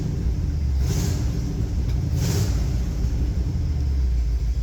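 A classic catering truck's Ford 351W V8 idles steadily, a deep continuous low rumble with no talk, two brief brighter swells in the hiss riding over the even engine drone.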